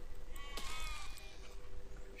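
A sheep bleats once in a short, wavering cry inside the Besiege building game, set against a steady hiss of background game noise at low volume.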